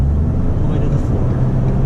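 A 2019 Ford Expedition accelerating at full throttle, a loud, steady engine roar with deep low rumble filling the cabin continuously, no talk over it.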